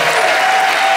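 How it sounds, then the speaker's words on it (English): Audience applauding on a cruise-ship concert show, a steady dense wash of clapping held at full strength for the whole second without a break, loud and close, with no voices over it. "Can we actually get a round of applause for Josh Gondelman, though?"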